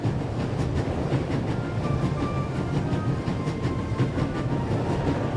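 A train in The Raven: Legacy of a Master Thief rushes along at full speed, a loud, steady rolling roar with a faint clickety-clack of wheels on rails running unbroken throughout, no voices over it.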